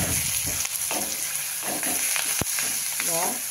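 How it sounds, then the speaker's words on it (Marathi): Asafoetida sizzles in hot oil in a pan for spiced okra, a loud steady frying hiss with occasional stirring clinks and a brief voice near the end. "आता टाकू थोडासा हिंग."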